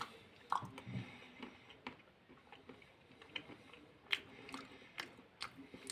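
Roasted peanuts with wasabi being chewed close to the mouth, with quiet irregular crunches and a few sharper bites standing out against near silence.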